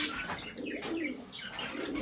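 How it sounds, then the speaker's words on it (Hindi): A newly arrived pair of pet parrots kept indoors make soft cooing and chirping calls, fairly faint and continuous over a low background hum. "तो तोते देखे यार हमारे तोते क्या कर रहे हैं।"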